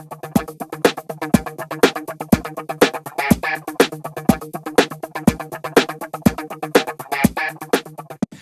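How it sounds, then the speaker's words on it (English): Guitar part added to a pop song production, short plucked notes in a tight repeating rhythm over a steady beat, clean and close with no talk. "Okay, so I've just added in this guitar here, which sounds like this."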